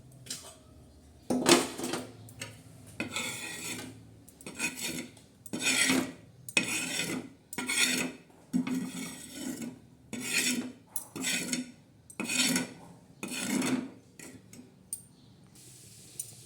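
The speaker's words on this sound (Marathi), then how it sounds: "आता आपण हे पीठ काढून घेणार आहोत" Roasted millet flour scraped from a pan: repeated rough rasping strokes of a spatula against metal, each lasting about a second with short pauses between, close and moderately loud with no voices.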